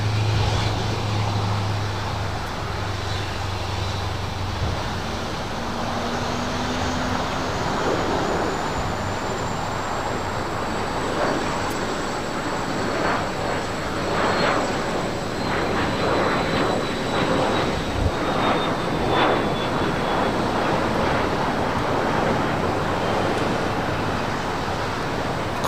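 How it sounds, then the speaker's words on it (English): Emirates Airbus A380 landing on runway 24 left at LAX: a steady, broad jet roar with a slowly gliding engine whine, sustained at fairly close range for the whole stretch, no talking. "Let's go to the Emirates A380 Super now on short funnel for 24 left"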